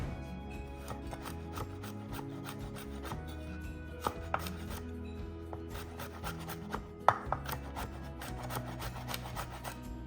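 A knife chops vegetables coarsely for caponata on a board in a kitchen, cutting in irregular close strokes with a few sharper knocks, under steady background music.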